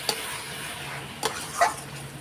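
A spice mixture being sautéed in a pan at home, a soft low sizzle with a few brief scraping stirs of a utensil.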